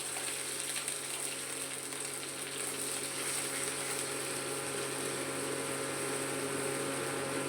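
Fennel and ginger paste hits hot mustard oil with a steady, even sizzle and hiss that holds at the same level from start to finish, close and alone, with no talk over it.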